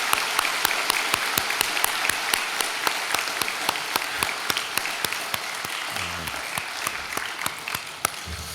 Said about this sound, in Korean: 우리 다시 박수하겠습니다.